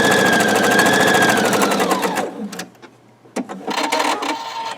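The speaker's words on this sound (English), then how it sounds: "So I'm going to stitch this down to the" Sewing machine stitching a log cabin quilt block, a steady rapid mechanical whir running loud and continuous for about two seconds, then stopping, followed by quieter handling clicks and a faint hum.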